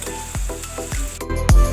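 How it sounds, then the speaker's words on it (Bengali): Onions and garlic with chili sizzle loudly in hot oil in a pan, a close, steady crackle broken by a few sharp scraping stirs. "আপনারা দেখতে পাচ্ছেন আমরা পেঁয়াজগুলো ভাজছি"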